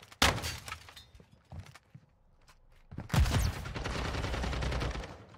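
Gunfire in a competitive video game match: a sharp burst at the start, a few scattered shots and steps, then a loud sustained automatic volley in the second half, with no talk over it.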